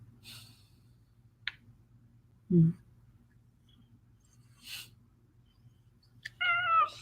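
A house cat gives a single short meow near the end, with a low snort or huff earlier amid quiet room sound and faint brief noises.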